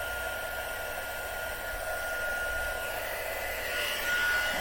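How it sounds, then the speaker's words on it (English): A heat gun blows hot air in a studio, a steady, close, loud whooshing roar with a thin high whine that holds level throughout, with no talking. "I'm going to turn on my heat gun"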